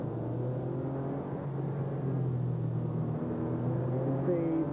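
Racing cars from 1997 British motorsport brake into a circuit complex, with a steady, fairly distant engine drone and humming harmonics that hold throughout.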